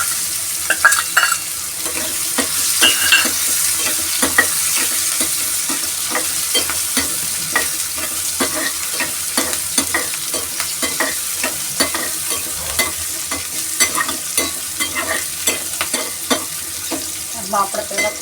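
Onions fry in oil for sambar, with a continuous sizzle broken by frequent sharp clicks and scrapes of stirring against the pan, loud and close, no talking.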